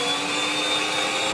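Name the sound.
electric mixer whisking brown sugar and butter for gingerbread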